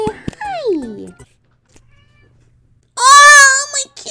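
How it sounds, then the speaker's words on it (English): A pet cat meows, one gliding call near the start and a louder, bright meow about three seconds in, close to the microphone with a quiet gap between. "Oh, my kitty just said hello!"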